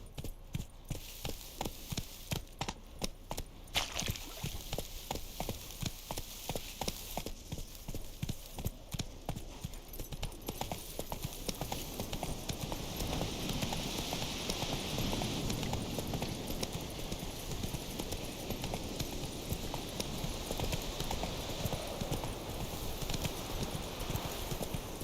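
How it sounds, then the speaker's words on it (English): Hooves of a galloping horse, Roach, in The Witcher 3 video game, beat a fast, steady clip-clop rhythm that stays up close for the whole stretch over a dense, loud game soundscape. "Run, Roach."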